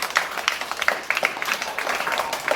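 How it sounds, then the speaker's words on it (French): Audience applause at a storytelling performance in Port-Gentil, Gabon: a dense, steady patter of many hands clapping at moderate distance, sustained throughout without voices over it. "Applaudissements pour lui."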